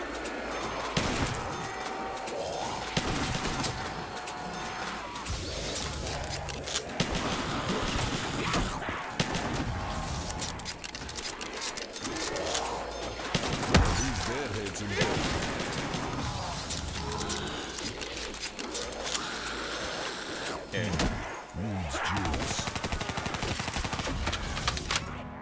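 Custom zombies map game full of dense gunfire, with repeated shotgun blasts and rapid shots layered over clattering mechanisms, heavy and continuous at low overall level with a brief lull near the end.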